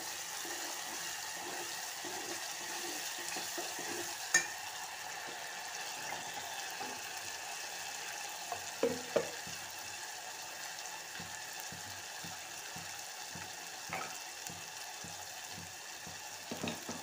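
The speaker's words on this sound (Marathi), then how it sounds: "तेलामध्ये शिजू देऊ।" Besan (gram flour) paste frying in oil, with a steady close sizzle and crackle that continues throughout, dotted with faint soft taps and bubbling pops.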